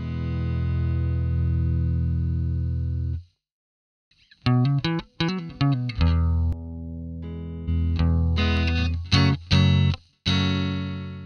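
Electric guitar runs through a Jazz Amp 120 emulation in Amplitude 4 with distortion set just above minimum: a long sustained chord rings out, then after a brief silence a series of choppy, bright chords and short strummed stabs follows.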